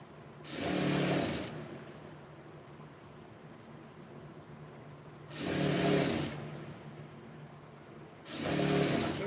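A sewing machine stitches a blouse lining in three separate runs, each a loud, rapid whirring burst of a second or two, with quieter room hum and a faint insect-like hiss between them.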